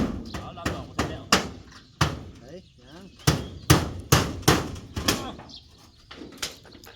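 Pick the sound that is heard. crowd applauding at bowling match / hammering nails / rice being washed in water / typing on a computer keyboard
hammering nails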